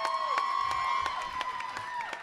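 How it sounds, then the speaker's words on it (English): A live concert audience at 3rd & Lindsley in Nashville claps and cheers in a steady wash of noise, under a sustained ringing tone from the stage. "Give a round of applause from the people that came from Indiana to see me."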